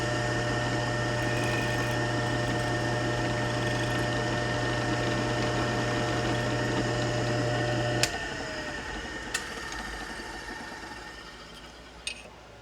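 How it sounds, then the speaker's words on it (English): Machine tool drilling a small spotting dimple in an engine flywheel part with a number 29 drill, a steady whirring hum for about eight seconds that then stops, leaving faint rattles and a few sharp clicks. "just use it as a spotting drill to make a little dimple in this"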